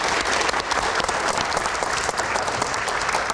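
A studio audience at an Indonesian political talk show applauds the guest panelists, a dense, steady wash of many hands clapping close and loud for the whole stretch, with no talk over it.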